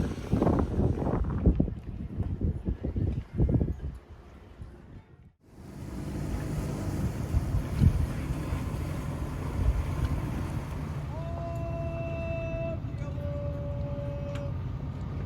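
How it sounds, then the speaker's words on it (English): A boat engine drones steadily in wind noise while motoring through a mooring field and around docks at Block Island, rumbling on for a long stretch; near the end a few tonal calls ring out over the motor. "the Aldo's Bakery boat makes its way through the mooring field and around the docks"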